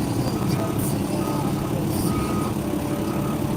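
Truck reversing beeps in the rain, a steady repeating tone under continuous rumbling engine and rain noise.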